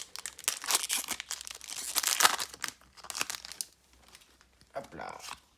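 Pokémon card booster packs from the Sword and Shield series being torn and crinkled open in a string of crisp foil rustles and rips, with people talking alongside.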